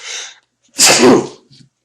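A single sharp sneeze, loud and close, preceded by a brief breathy intake and trailing off into a short exhale.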